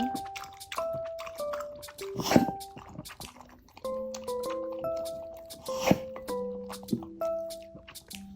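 A pet laps up water from a bowl, producing wet, rhythmic slurping and dripping sounds close by, with tonal squeaks or whines interspersed and faint background noise.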